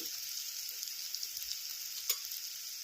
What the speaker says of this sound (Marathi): थोडीशी कोथिंबीर आता हे पण परतून घेऊया